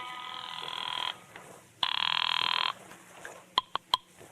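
Telephone rings in a vintage radio detective drama: two long, loud electric bell bursts separated by a pause, then a few short sharp clicks as the receiver is picked up.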